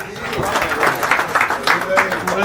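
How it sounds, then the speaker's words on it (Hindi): Applause welcoming a guest at a Central Calcutta fan and electric dealers association diary inauguration, an uneven patter of clapping from a gathered crowd mixed with talking voices. "तालियों से स्वागत"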